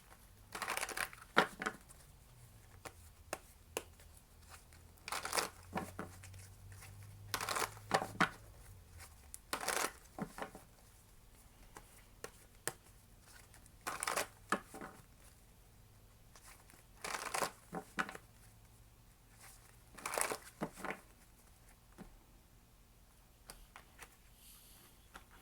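Tarot cards are shuffled and handled in soft, intermittent bursts of riffling and crinkling, quiet and close, with brief pauses between flurries and no talking.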